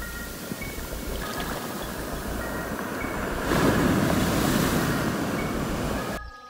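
Ocean waves roll onto a new black sand beach in a steady broadband roar that swells louder midway, mixed with wind buffeting the microphone.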